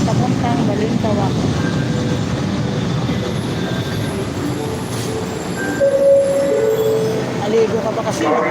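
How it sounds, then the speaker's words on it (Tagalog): A commuter train riding toward Balintawak rumbles steadily throughout, with brief wheel squeals near the end, while people talk nearby over the noise. "Nasakay na kami ng tren papuntang Balintawak."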